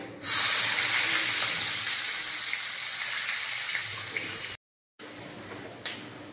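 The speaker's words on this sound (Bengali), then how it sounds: "এবার দিয়ে দিলাম কুচানো পেঁয়াজ।" Chopped onion hits hot oil tempered with whole cumin and chilli, hissing in a loud, steady broadband sizzle that runs nearly unbroken for several seconds, cuts out briefly, then resumes a little quieter.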